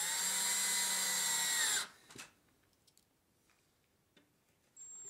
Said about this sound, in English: Putting two screws or three screws in each bracket to make sure it's secure.